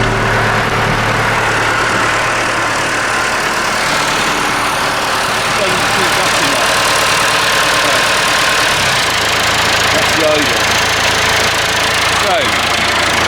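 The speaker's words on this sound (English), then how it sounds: "The idle speed is set too high because the spring isn't bringing it back. So the engine is sort of racing a bit." A Massey tractor engine idling too fast, racing steadily because a faulty return spring fails to bring the idle speed back down, a loud continuous rumbling drone with a voice talking over it.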